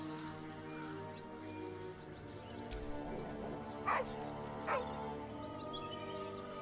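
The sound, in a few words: dog barking, Baldur's Gate 3 video game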